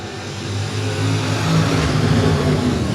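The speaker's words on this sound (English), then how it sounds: "We are now green flag racing." Modified race cars roar away together at a green flag start at Heart O' Texas Speedway, a steady, loud engine drone building slightly over three seconds with no voices over it.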